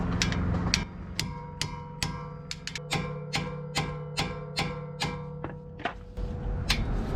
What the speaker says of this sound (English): You can feel it when you're hitting it with the sledgehammer.